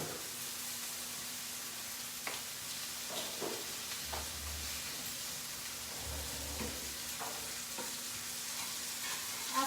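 Boiled pasta being stirred into a frying pan, a soft sizzling hiss with occasional scraping and clicking of a utensil against the pan, fairly quiet and steady, with a low hum underneath and no talking.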